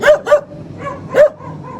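Small, fat dogs living beside a little khinkali factory in Tbilisi bark in quick, close yaps, with several sharp barks separated by brief pauses and a softer whimper near the end.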